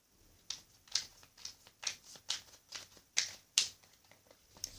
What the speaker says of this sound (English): I am shuffling my deck for you